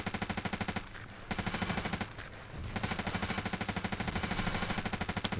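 Automatic gunfire in the video game Battlefield 2: long, steady streams of rapid machine-gun shots that run almost without a break and are loud and close.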